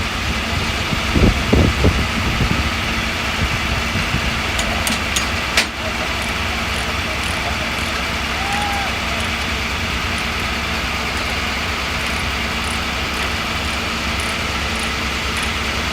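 A tow truck's engine idles steadily at close range, a constant low rumble with a brief clatter of handling noise near the start, and no voices.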